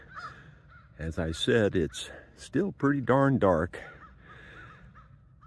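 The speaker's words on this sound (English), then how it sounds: "You can hear the crows in the background." Crows caw in the background near a pond at dawn, their calls faint and partly masked by someone talking over them.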